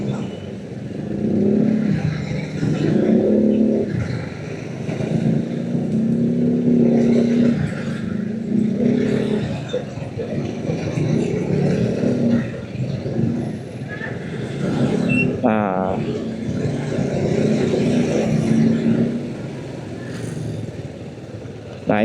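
Congested morning traffic in the Indonesian town of Air Molek, Riau, with cars, motorcycles and heavier vehicles idling and revving nearby, a constant engine rumble with passing revs and a brief brake squeal, voices scattered underneath.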